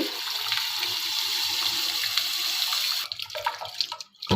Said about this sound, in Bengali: সাবুটা আমি ধুয়ে নিচ্ছি